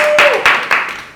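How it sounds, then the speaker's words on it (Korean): Brief group applause breaks out among the members of a boy band during a commentary session, several quick claps of clapping heard nearby, partly mixed with a voice. "모두에게 박수"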